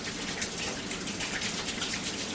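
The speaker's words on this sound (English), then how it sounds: "Let me rinse my hands." Water from a kitchen sink tap runs steadily as hands are rinsed, a continuous broadband splashing hiss at close range with no talk.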